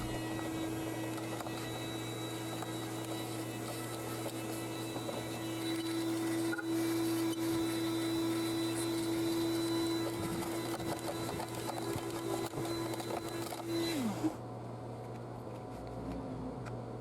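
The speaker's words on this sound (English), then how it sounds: "I recommend going one step further and vacuuming the housing while you're at it." A vacuum cleaner drones steadily close by while cleaning out the engine air filter housing of a 7th-generation 2003–2007 Honda Accord, a constant whine that cuts off near the end.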